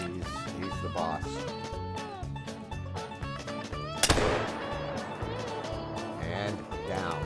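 A muzzleloader fires once in the hunting video game theHunter: Call of the Wild, a single sharp, loud blast over game music and ambience, with no talking.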